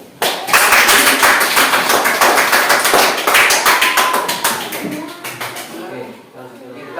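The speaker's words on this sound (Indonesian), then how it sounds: "silakan kelompok 3 kita beri tepuk tangan bareng-bareng." A classroom of students claps together for a group, loud rapid unison clapping close by with voices cheering over it before it fades out.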